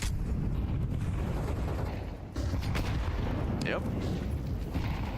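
Grenades bursting during a Counter-Strike match in a BLAST Premier Bounty broadcast, dense continuous blasts and gunfire-like thuds filling the mix while a player speaks briefly over the din.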